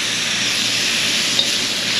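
Onions and vegetables sizzling steadily in a hot pan, a continuous close frying hiss with a faint clink partway through and no talking.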